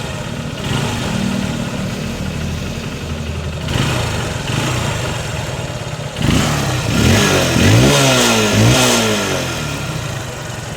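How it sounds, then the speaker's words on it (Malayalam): A used car's engine idles steadily and then revs up several times in quick succession, loud and close, each rise and fall of pitch sweeping clearly. "എൻജിൻ്റെ സൗണ്ട് കാര്യങ്ങളൊക്കെ കേട്ടപ്പോൾ"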